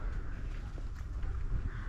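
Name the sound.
crows cawing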